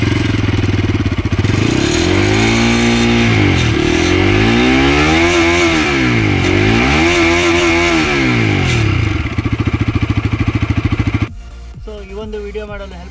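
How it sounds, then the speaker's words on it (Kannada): A Bajaj Pulsar 200RS BS6 motorcycle starts up and its exhaust rises and falls through several loud, close revs. The engine then settles into a steady idle before cutting out near the end. "ಇವಾಗ ಈ ಒಂದು ಬೈಕ್ನ ಸ್ಟಾರ್ಟ್ ಮಾಡಿ ಎಕ್ಸಾಸ್ಟ್ ಸೌಂಡ್ ಅನ್ನು ನೋಡೋಣ."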